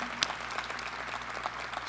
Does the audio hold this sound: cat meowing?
no